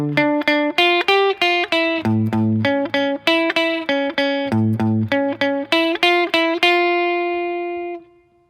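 A clean, bright guitar riff from a song: plucked notes repeating in a steady pattern, ending on a long ringing note that fades out.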